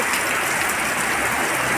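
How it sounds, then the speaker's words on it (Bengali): Heavy monsoon rain pours down during the Sravan month in rural countryside, a dense, constant roar of rainfall that stays loud and even throughout the short stretch. "প্রচণ্ড বৃষ্টি শ্রাবণ মাসে"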